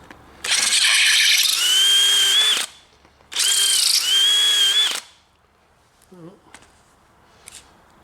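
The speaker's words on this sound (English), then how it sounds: "Chuck the next size drill bit in." A power drill bores out a hole in a Stihl chainsaw bar, giving two long, loud, steady whining bursts up close, separated by a short pause and followed by quiet handling noises.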